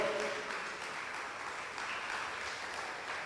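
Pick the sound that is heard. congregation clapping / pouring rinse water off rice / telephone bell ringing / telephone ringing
congregation clapping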